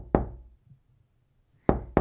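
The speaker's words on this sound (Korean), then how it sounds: "작고 조심스럽게 문 두드리는 소리가 들렸다." Small, careful knocks on a door: one soft rap, a pause of over a second, then two quick raps close together, near and distinct in a quiet room.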